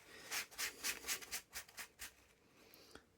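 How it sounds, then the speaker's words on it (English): Paper towel rubbed gently over painted laser-cut brickwork to lift excess paint: a soft, dry, rhythmic scrubbing of about eight quick strokes, close and quiet, tapering off at the end. "we're just going to rub that gently just to take the excess off"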